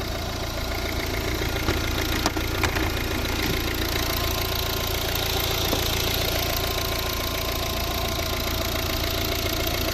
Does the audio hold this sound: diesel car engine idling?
yes